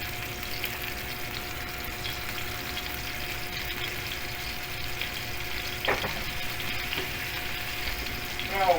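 A spiced burger patty sears in a hot pan, giving a steady, close sizzle throughout with a faint tonal hum beneath and an occasional scrape or clink near the end.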